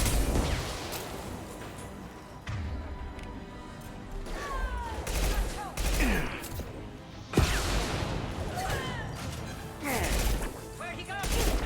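Gunfire from a gun in Mass Effect, a series of sharp bursts and impacts scattered through a busy combat mix, with a voice talking over it in places.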